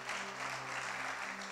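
Applause from a church congregation during a service, a steady even wash of clapping lasting the whole moment, with a low organ or keyboard hum sustained underneath.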